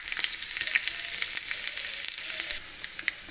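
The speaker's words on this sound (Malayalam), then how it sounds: "ചുമന്നുള്ളിയും കറിവേപ്പിലയൊക്കെ മൂത്ത് വന്നിട്ടുണ്ട്." Curry leaves and shallots fry in mustard oil in a pan for a dry prawn curry, a steady close sizzle with frequent small crackles and pops and no talk.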